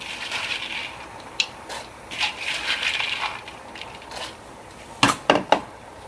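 Chopped ridge gourd and soaked moong beans tipped into a pot for bassaru, giving soft scattered clatters and shuffles followed by a quick burst of three sharp metallic clinks near the end, with no talk.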